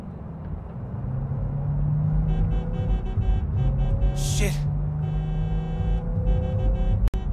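Car engine in Cyberpunk 2077 humming at a steady low drone while driving, with a brief higher whoosh midway and a sharp click near the end, alongside faint voices.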